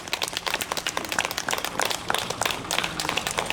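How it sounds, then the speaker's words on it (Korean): Applause from a church prayer-meeting audience, a dense sustained patter of many hands clapping at steady loudness throughout, with no speech over it. "여러분 격려의 박수를 부탁드립니다."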